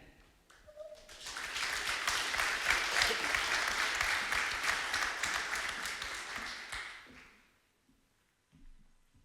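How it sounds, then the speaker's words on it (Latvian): Audience applause fills a hall at a Latvian state thank-you ceremony for volunteer clean-up participants, a steady sustained clapping that swells, holds for several seconds, then fades out before a brief final patter. "Aplaus vērts saraksts. Pašiem sev, aplaus pašiem sev."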